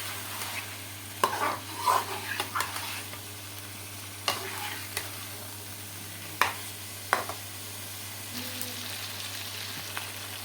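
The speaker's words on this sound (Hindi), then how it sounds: "मैं इसको भून लेती हूँ। हाँ, थोड़ा तेज़ करके भून लेती हूँ।" Fish frying over high heat in a pan, a steady sizzle with a low hum beneath and scattered spatula scrapes and knocks, close and with no one talking.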